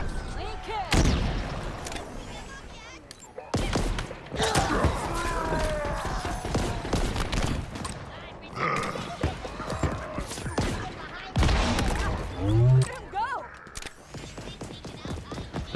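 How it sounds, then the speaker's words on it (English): Explosions and gunfire from the Halo Infinite campaign with the Boom skull active, a busy barrage of booms and shots in loud bursts with short gaps, continuing throughout alongside game sounds. "Apparently this is considered an explosion."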